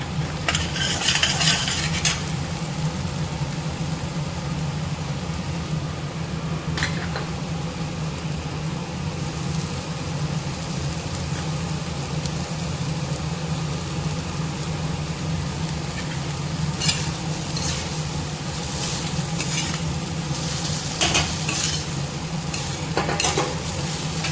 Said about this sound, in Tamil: இப்போ நம்ம வேக வச்சு ஆற வச்சுருக்க சாதத்தை இது கூட சேர்த்துக்கலாம்